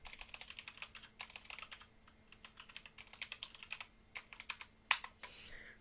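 Quiet, close computer keyboard typing comes as bursts of quick clicking keystrokes with short pauses between them, ending in one sharper key press, with no talk.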